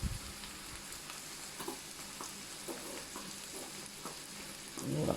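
Browned minced meat for a cottage pie sizzling in a pan as tomato passata is added: a soft, steady frying hiss with stirring scrapes and a louder clatter near the end, no talk.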